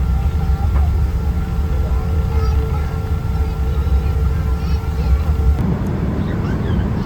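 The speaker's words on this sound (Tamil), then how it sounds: "பசிபிக் பெருங்கடல் மேலே பறந்துட்டு இருக்கோம்" An airliner cabin during a long flight over the Pacific Ocean carries a constant, loud droning hum with steady whining tones, shifting slightly near the end.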